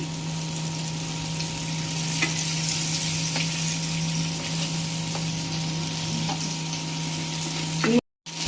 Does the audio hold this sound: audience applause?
no